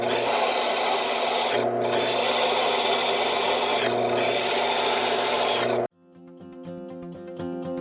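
A drill press whines loudly and steadily for several seconds while drilling holes in metal post and beam brackets outdoors, dipping briefly twice as it bites, then stops abruptly and gives way to quieter sounds.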